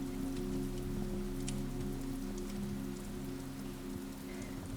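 Steady rain falls near a crackling fire at the front of a bookshop, a continuous soft patter with a low hum beneath and no voices.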